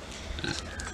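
A farm pig grunts once in a brief, close, low snort. A faint voice may sit underneath.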